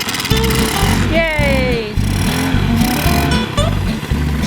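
Motorcycle engine on the Trans-America Trail, running loud and close right after a river crossing, its rough rhythmic chugging steady throughout with a brief cheer over it.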